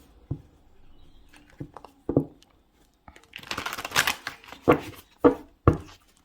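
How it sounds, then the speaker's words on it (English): A deck of tarot cards being shuffled up close, with soft riffling bursts and a few sharp taps of cards settling against each other. "One more shuffle."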